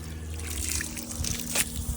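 Water drains from an electric water heater tank during a flush, a faint close trickle and dribble with a low steady hum underneath and a brief splash near the end.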